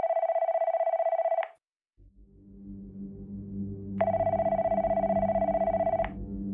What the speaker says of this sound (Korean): 전화가 울리기 시작했다